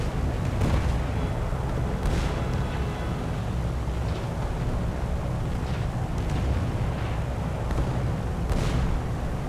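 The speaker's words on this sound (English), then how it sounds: "And we got the AA guns on us from this island." Anti-aircraft guns firing from an island at a Tu-4 bomber in War Thunder, with repeated heavy booms and bursts rolling over a constant loud droning engine rumble from inside the aircraft.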